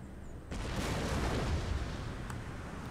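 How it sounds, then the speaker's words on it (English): Enemy counter-battery artillery pounds mortar positions in Empire Total War, heard as a faint, distant rumbling barrage that swells after a soft onset and rolls on with low booms and scattered pops. "Oh god, are they counter battering my mortars?"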